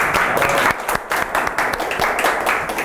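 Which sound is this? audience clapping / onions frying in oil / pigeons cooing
audience clapping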